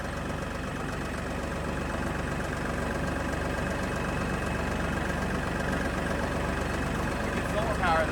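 A tractor idles nearby at an off-grid homestead, a steady low engine rumble that runs unbroken under a faint background hum.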